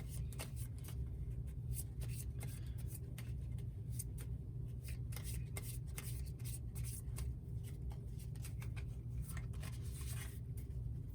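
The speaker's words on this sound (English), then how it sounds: "shuffle the bottom 5 cards of the discard pile into the deck." Steady papery riffling and soft card slaps repeat over a low background hum, with no voices, as a few discard-pile cards are shuffled into a deck during a solo tabletop card game.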